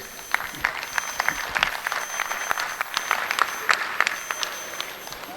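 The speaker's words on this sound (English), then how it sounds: "I'd like everyone to give these breeders of these fine group out here a big round of applause" Scattered, moderately faint clapping from an audience at a dairy cattle show, applauding the breeders of a group of cows, with uneven individual claps rather than a dense roar.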